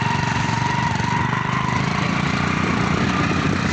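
A brand-new motorbike's engine runs steadily at close range, a continuous mid-pitched drone with a fast, even pulse and no talk over it, on a hill road at Sandakpur.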